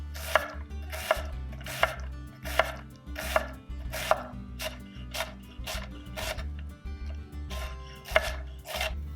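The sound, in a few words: knife cutting half an onion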